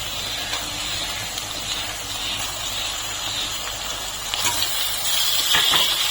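Chicken pieces for lemon chicken fry in a pan with lightly browned onions, giving a continuous close hissing sizzle that grows slightly louder toward the end.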